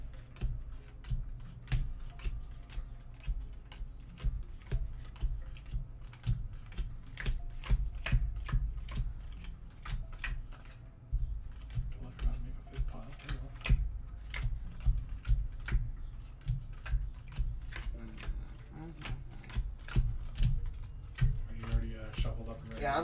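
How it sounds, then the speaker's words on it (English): Cards from a Magic: The Gathering deck being shuffled, a steady run of crisp riffling flutters and soft slaps over about twenty seconds, close by, with a voice talking faintly underneath. "I'm shuffled up and ready to go."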